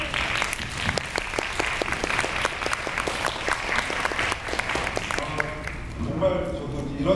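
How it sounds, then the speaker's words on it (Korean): An audience at a Korean film director talk event applauds a special guest: dense, steady clapping from a crowd indoors, fairly loud and continuous for several seconds before thinning out at the end. "큰 박수로"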